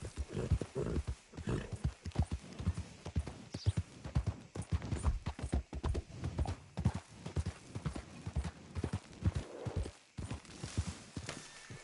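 Horse hooves clip-clop in steady walking rhythm in the video game Red Dead Redemption 2, close and distinct, with no talking over them.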